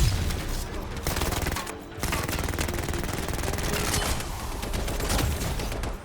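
Seeker grenades detonate in the sci-fi shooter Anthem amid rapid, dense gunfire, a continuous loud barrage of crackling bursts and booms across the whole stretch.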